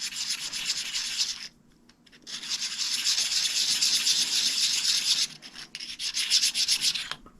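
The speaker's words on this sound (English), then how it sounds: "I'll get my diamond stone and show you what we do there." A diamond stone is rubbed back and forth against a knurling wheel pin to hone a slight burr off the back of its face, giving steady close scraping strokes with one short pause partway through.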